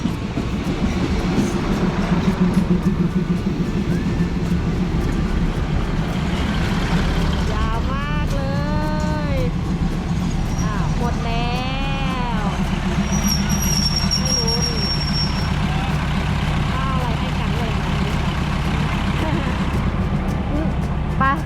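A train rolls into a station with loud rumbling and screeching brakes that rise and fall, while people talk over the noise.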